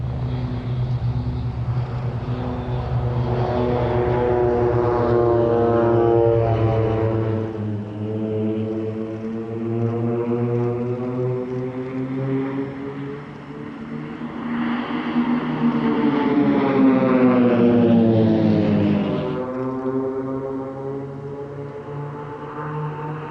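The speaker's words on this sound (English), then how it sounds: "the PC-7 team with their 9 Pilatus PC-7 turbo trainers" Swiss Air Force PC-7 display team of nine Pilatus PC-7 turboprop trainers flying past at an airshow, a loud droning propeller roar that rises, falls and shifts pitch as the formation sweeps overhead twice.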